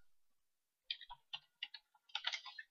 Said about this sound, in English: So all you need to do is type in Microsoft Windows keyboards